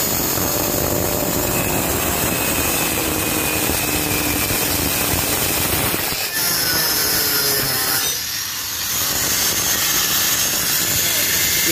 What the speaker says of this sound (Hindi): उसमें आप ग्राइंडर से कट लगा दो